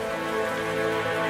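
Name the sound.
heavy rain falling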